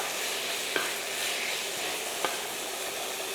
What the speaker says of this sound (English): I will stir fry until the onion is become soft and